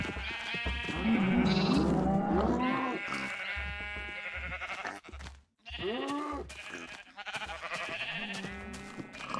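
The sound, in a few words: sheep bleating in the video game Minecraft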